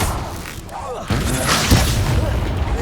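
Expulso or Confringo explosion spells boom in Hogwarts Legacy combat, with a deep thudding blast around the one-second mark and rumbling impacts after it, while a voice talks over the action.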